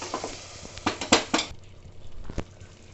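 Chilli, turmeric powder and spices stirred and frying in a pan with onion and tomato for a leafy greens saag: soft sizzling with a run of scraping stirs in the middle and a lone clink near the end, close and alone.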